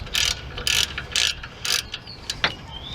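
Ratchet wrench loosening a 10mm bolt on the rear brake of a Ford Explorer: a series of close, crisp ratcheting clicks in short bursts, with a few lighter clicks at the end and no talk.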